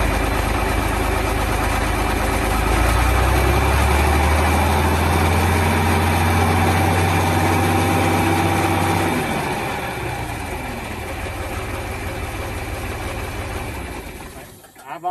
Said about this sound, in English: I'm gonna show you how quick it starts back. Pull the throttle down just a little bit.